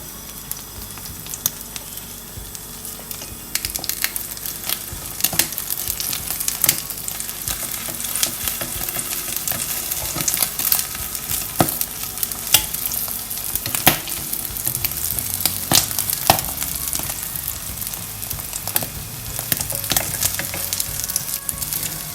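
Beaten eggs frying in cooking oil in a pan, a steady close sizzle with crackling pops throughout, no voices.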